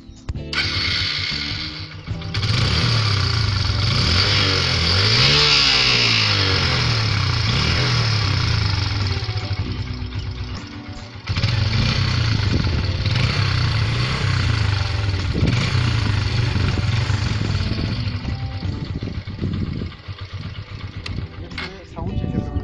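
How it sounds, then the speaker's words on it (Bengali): Hero Ignitor motorcycle engine starts and runs steadily at close range, a loud continuous idle with brief pauses and rises, running throughout most of the stretch. "বন্ধুরা এই মুহূর্তে আমি আপনাকে সাইকেলটা স্টার্ট দিয়ে সাইকেলটার সাউন্ড আপনাকে শোনাবো"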